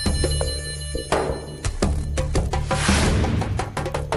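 A telephone rings in a TV drama scene, its bell tone repeating over dense background music.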